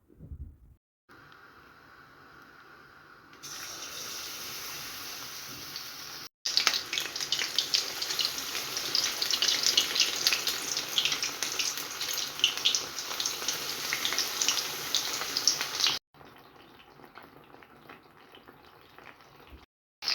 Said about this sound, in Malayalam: ചിക്കനൊക്കെ എണ്ണയിലിട്ട് കൊടുത്തു